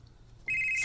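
A mobile phone ringtone for an incoming call comes in abruptly partway through, a loud steady electronic tone that holds to the end with no voices over it.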